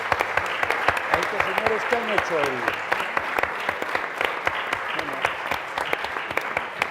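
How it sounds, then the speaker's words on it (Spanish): An audience applauds at the presentation of a book on seventeenth-century music, a room full of sharp, fairly close claps ringing steadily while someone speaks over them. "este aplauso es naturalmente para Juan Carlos del Campo"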